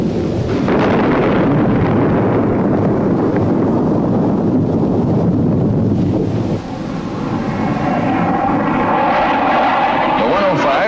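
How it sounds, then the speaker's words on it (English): A military jet aircraft roars loudly overhead after dropping a bomb, giving a dense, wind-like rush that shifts in tone as it pulls away, with a narrator's voice speaking over it. "The delay between drop and detonation provides a safe escape time for the aircraft and"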